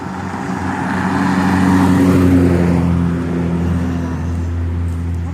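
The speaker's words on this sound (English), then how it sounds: "Traffic's picking up for some reason." Road traffic heard from a garden in June, a steady low engine rumble that swells as a car passes at moderate distance around the middle, then eases back to a constant hum with no talking.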